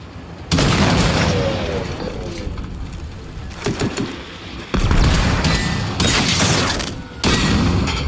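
Loud, heavy booms from a rocket launcher in the video game Generation Zero, several big blasts with rumbling tails separated by brief quieter gaps, no talking.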